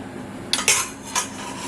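A knife slicing through food while making bouchées à la reine, heard as a few short crisp scrapes and clicks against a plate or board, close by and quiet, with no talking.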